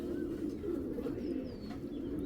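Bagha racing pigeons, a male and female pair, coo steadily in a low, throaty rolling murmur that continues without pause, close and fairly loud, with faint chirps from other birds above it.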